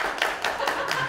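Sparse scattered audience clapping at a comedy showcase, a few distinct claps and taps at irregular intervals, moderately close, no talk.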